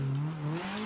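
A car slides through a handbrake turn under a bridge on the Okuibuki drift course, the engine holding a loud rising drone with tire noise, close and continuous.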